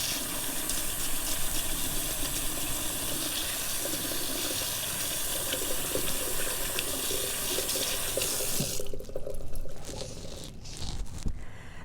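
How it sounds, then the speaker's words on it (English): Water from a running tap splashes steadily as sticky levain is rinsed off hands. The sound is close and continuous, then breaks into louder, uneven splashing near the end. "So I'm going to rinse my hands here and get this sticky levain off."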